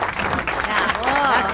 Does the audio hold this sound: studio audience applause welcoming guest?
yes